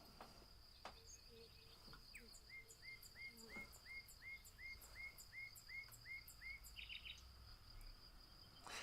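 Birds sing outdoors in a repeated series of clear whistled chirps, with a steady high insect-like trill running throughout and occasional other calls; moderately faint, no talk.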